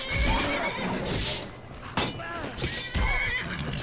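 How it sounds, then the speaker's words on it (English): A horse neighs and whinnies loudly and close up while under attack in Skyrim, repeated shrill, shaky calls mixed with hoof clatter and impact sounds. "Why are you attacking the horse?"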